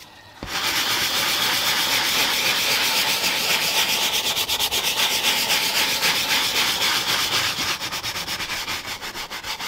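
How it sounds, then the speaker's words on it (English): A stiff-bristled brush scrubs a leather car seat for nearly ten seconds, a loud, continuous rasping rub with steady back-and-forth strokes working into the seams and stitching, with no talking. "get the brush bristles in all the seams"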